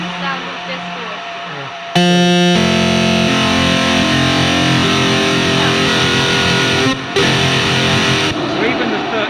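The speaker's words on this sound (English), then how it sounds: "we can the put lovely, relaxing sound of distortion" A sustained meantone chord played on a Lumatone keyboard through heavy distortion, starting with a brief clean tone, then a loud fuzzy buzzing chord held for several seconds with a short break.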